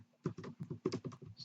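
Java code being typed on a computer keyboard, a quick close run of soft individual key clicks in uneven bursts, fairly quiet.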